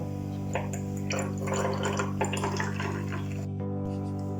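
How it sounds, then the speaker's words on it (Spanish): Water poured back into a glass volumetric flask holding a soil sample in a lab, a steady close trickling and splashing over a constant low electrical hum, ending abruptly. "Y luego el agua retirada de la fiola se vuelve a vertir dentro."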